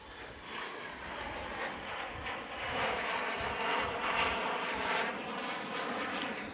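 A fixed-wing airliner taking off from runway 15 right at Houston Intercontinental Airport, heard as a loud, steady broadband engine roar that swells slightly as the plane rotates and climbs.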